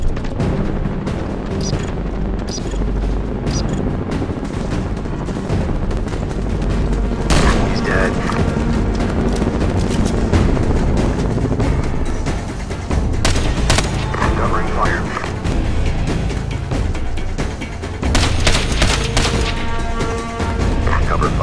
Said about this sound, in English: I'm taking heavy RPG fire and cannot extract